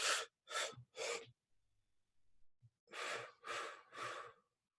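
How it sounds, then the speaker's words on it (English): Three-part breathing exercise: three sharp, close inhalations in quick succession, a pause with a faint low rumble, then three more strong breaths in the same rhythm, heard alone without talk. "so you breathe in 3 times, each expanding your chest, and then you hold at the top, and then you hold at the bottom"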